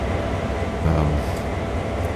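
Steady low rumble of a US diesel locomotive engine in Train Sim World 4, a continuous droning idle that holds even and loud throughout with no talking.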